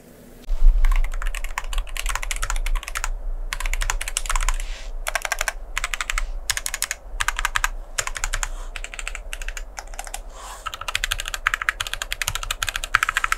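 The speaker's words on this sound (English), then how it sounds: "for the switches, they are Gazoo Boba U4T. Very good switches, sound excellent." Mechanical keyboard fitted with Gazzew Boba U4T tactile switches and PBT keycaps, a continuous run of fast, muted, thocky keystrokes with a few short pauses, close and clear with no talking.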